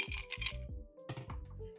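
Ice cubes drop into a cocktail glass with several sharp, bright clinks and rattles in quick bursts, close and clear, with a brief pause between two clusters.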